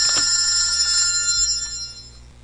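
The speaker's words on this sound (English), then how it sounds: "I was interrupted by a phone call" A telephone rings indoors with a bright, steady electronic trill that sounds alone and close, then gradually fades over a couple of seconds.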